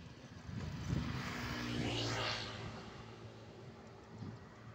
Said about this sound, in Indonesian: ada truk keluar itu